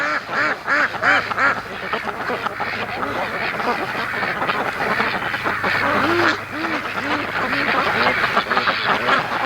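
A large flock of free-range ducks on a lake quacking continuously and loudly, many overlapping calls in a dense, busy chorus close by.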